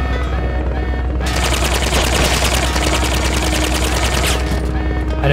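Rapid automatic gunfire from the Metal Gear Solid Peace Walker video game on PS3, with loud sustained bursts and dense shots over a steady low rumble that keeps going until the clip ends.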